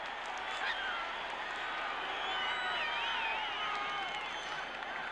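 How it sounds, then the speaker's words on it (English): A crowd cheers at a 1979 Washington Redskins vs Detroit Lions football game in a stadium, a dense, sustained roar with no break, distant and steady with a few whistles rising through it. "Boy, listen to this crowd. They are really pumped up now."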